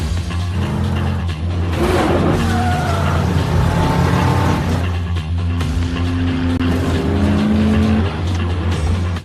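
Cars racing at night in the film Death Race (2008): loud roaring engines with screeching, skidding tires and passing vehicles, all close and continuous.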